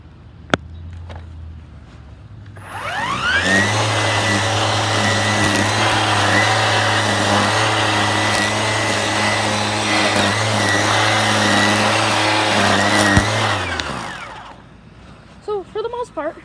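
A gas weed wacker string trimmer runs in high gear with a loud, steady, close whining drone for about ten seconds, then spins down and fades.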